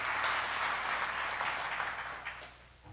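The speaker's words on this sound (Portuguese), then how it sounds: "Dá um aplauso a Jesus" A church congregation at a worship service applauds in a steady, full round of clapping that fades slightly toward the end, with no talk over it.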